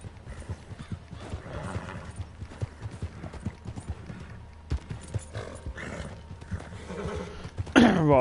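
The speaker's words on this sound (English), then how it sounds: "Come here, you stupid horse, put your foot down." Horse hooves clip-clop in a steady stream with several whinnies and neighs in Red Dead Redemption 2, ending in a loud, close whinny.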